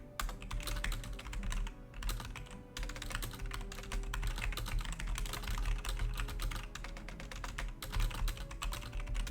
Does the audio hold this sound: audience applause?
no